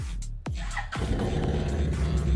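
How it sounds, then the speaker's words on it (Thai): An AODES 850 V-twin ATV engine cranks with a short starter burst, then catches and settles into a steady, rumbling idle close to the microphone, with no talk over it. "เราจะสตาร์ทเครื่องให้ฟังนะครับผม"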